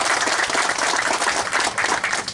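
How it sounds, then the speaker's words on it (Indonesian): A crowd at a school harvest event in NTT claps steadily, a dense, even patter of many hands continuing throughout without a break. "Tepuk tangan dulu"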